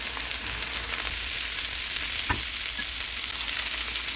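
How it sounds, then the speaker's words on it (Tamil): Chopped broccoli sizzling steadily in a pan, a continuous bright frying hiss with an occasional soft stir or clink partway through, close and even throughout. "அதையும் இதில் போட்டு குக் பண்ண போகிறேன் கொஞ்சம் நேரம்."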